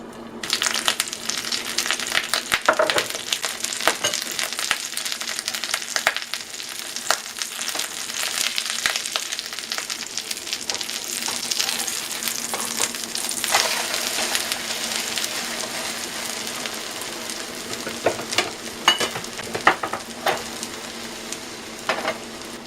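An omelet cooking in a covered pan on lowered heat gives a steady close sizzle with frequent small pops and crackles, continuous throughout with no voices.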